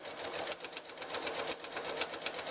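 A sewing machine stitches a lock stitch while quilting a jelly roll quilt, giving a fast, even mechanical chatter at close range that runs without a break for a couple of seconds.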